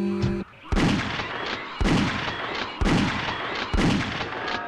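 Four loud, evenly spaced gunshots boom from a weapon in the PlayStation game Alien Trilogy, each with a short decaying tail, alone with no talk.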